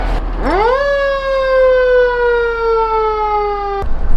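A loud emergency vehicle siren winds up quickly and holds a long, steady wail close by, then cuts off abruptly.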